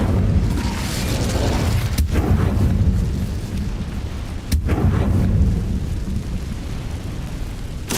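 An Incendio fire spell in the video game Hogwarts Legacy erupts in two sharp, booming blasts a few seconds apart, set over a loud, continuous rumbling roar.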